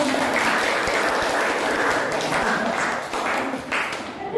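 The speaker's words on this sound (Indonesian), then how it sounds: "beri tepuk tangan dulu untuk" A classroom of teachers-in-training claps after a group presentation, dense steady applause for about four seconds that thins out toward the end, with faint voices underneath.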